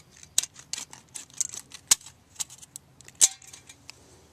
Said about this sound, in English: I'm just using my multi-tool, the scissors on my multi-tool.